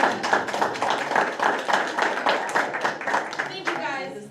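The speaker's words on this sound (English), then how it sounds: "We'll clap for her anyway." A small group at a Board of Education meeting in a boardroom claps in a quick, uneven patter for several seconds, and a voice briefly speaks as the clapping trails off.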